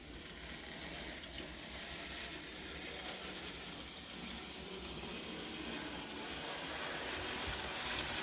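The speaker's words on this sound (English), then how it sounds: "we can send the little short goods train off" A little short model railway goods train running on a layout in a shed, a faint, steady rolling rumble with soft clicking, continuous and without talk.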